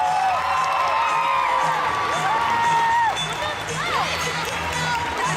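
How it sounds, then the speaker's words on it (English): Audience applause and cheering for the President's Choice Super Dogs show in Toronto, Ontario, a steady crowd roar with whoops and whistles rising over constant murmur, dipping briefly before swelling again. "How about a round of applause for all the President's Choice Super Dogs?"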